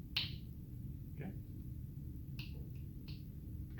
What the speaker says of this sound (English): It's hearing, testing his hearing. So it's kind of pointing on to the side, of which I'm snapping my fingers.